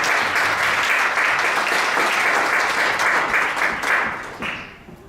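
A church congregation applauds loudly and steadily for several seconds, a dense wash of clapping that thins out and fades toward the end.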